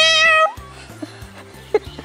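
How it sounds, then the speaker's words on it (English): A cat meows loudly once up close, followed by quieter indoor background sounds and a faint second mew. "It's a cat."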